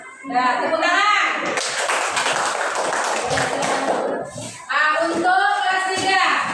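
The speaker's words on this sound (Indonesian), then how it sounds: "tepuk tangan." Applause from a group of children in a classroom breaks out between stretches of children's voices, a dense patter of claps lasting a few seconds before the talking resumes.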